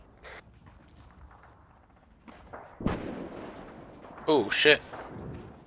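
A frag grenade blast goes off in a realistic military video game during team training, a single muffled boom at middle distance, with players talking and a radio-like crackle of voices over it.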